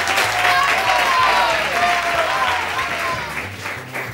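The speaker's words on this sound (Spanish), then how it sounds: "Un aplauso para ti" Studio audience applause fills a TV variety show set, a dense, steady wash of many hands clapping at close range, with cheers and voices mixed in before it eases slightly toward the end.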